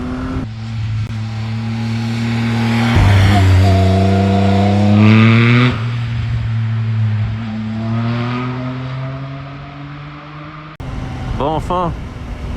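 A Triumph Speed Triple 1050 RS motorcycle engine revs hard close by, its three-cylinder note climbing and falling through several loud throttle sweeps, then a short sharp blip of revs after a brief cut; a voice talks briefly.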